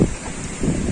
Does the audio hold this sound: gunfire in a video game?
no